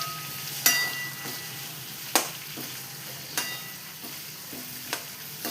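Ridge gourd fries in a pan with a steady low sizzle, broken by a few sharp metallic clinks and scrapes of a spoon at irregular intervals, close and moderately loud.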